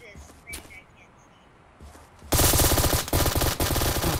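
Video game gunfire erupts suddenly after a quiet stretch, a loud sustained burst of rapid automatic shots with a few brief pauses, preceded by faint footsteps and small in-game sounds.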